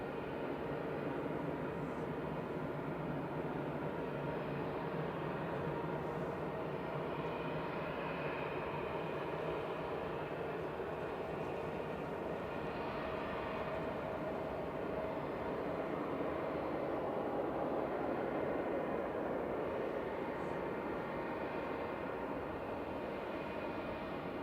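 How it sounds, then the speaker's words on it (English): Jet airliners taxiing out for departure at Manchester Airport, a Scandinavian flight to Oslo and a BA flight to Heathrow, give a steady, distant engine roar and broad rumble that holds unbroken and fairly even throughout. "Scandinavian to Oslo and the BA to Heathrow are just taxiing out"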